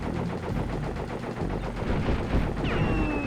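Rapid gunfire in Crash Bandicoot 3, a continuous machine-gun-like stream of close, loud shots with no pauses, and a brief rising electronic tone near the end.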